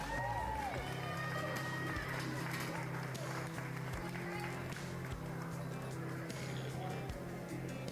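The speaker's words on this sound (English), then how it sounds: "Let's give these kids a big round of applause." At a Hays County youth swine show, a crowd claps and cheers for young livestock exhibitors, a dense sustained wash of applause in a large arena with an announcer's voice over it.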